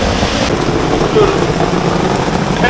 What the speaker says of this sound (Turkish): Yağmur hala devam ediyor ve hızını arttırarak devam ediyor.